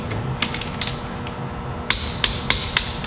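Socket tool clicks and taps on the bolts of a Polaris RZR clutch during torquing, a few scattered sharp metallic clicks early, then four crisp, evenly spaced knocks close by with no talking.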